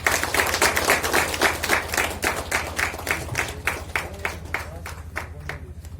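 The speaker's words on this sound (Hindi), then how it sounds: "एक जोर से ताली।" An audience at a Hindi Bible message by a pastor in Pasighat gives a loud round of clapping, steady dense applause that gradually thins and fades over several seconds.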